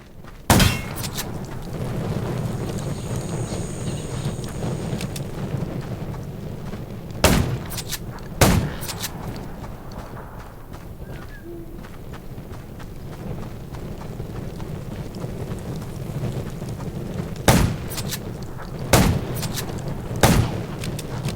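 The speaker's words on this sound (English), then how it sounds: "Gunshots will attract more." Loud, isolated gunshots in the video game Undawn ring out at irregular intervals, single blasts and quick pairs, over a low rumbling background.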